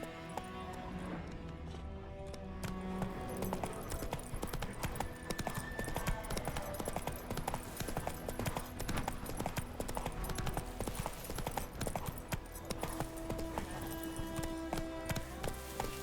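Horse hooves gallop steadily in The Witcher 3, a fast continuous clip-clop rhythm close by that runs throughout, with a faint voice urging the horse on at moments.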